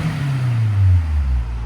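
A 2000 Honda S2000 with a 2.0L engine and an exhaust fitted with Vibrant resonators revs briefly, a deep close-up drone that rises and falls in pitch, with no talk over it.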